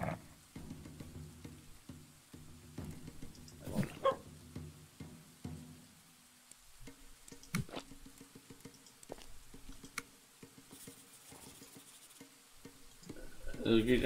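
Small yappy dog in a medieval RPG roguelite game, yipping and barking in short bursts with soft whimpers, fairly faint under a quiet game soundscape and some talking.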